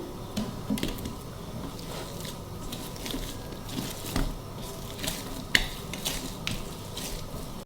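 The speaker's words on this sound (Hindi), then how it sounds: "ये देखें, 8 से 10 मिनट तक आपने इसको ऐसे मलना है।" Bread dough being kneaded by hand with oil, producing soft wet squishes and slaps in an uneven rhythm, fairly quiet and close, with no talking.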